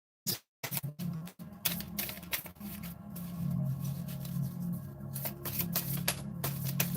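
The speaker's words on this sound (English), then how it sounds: "And if I shuffle this one more time" New, slippery tarot cards are shuffled in a run of soft riffling and sliding bursts, with brief gaps at the start, then a steady close shuffle that continues to the end.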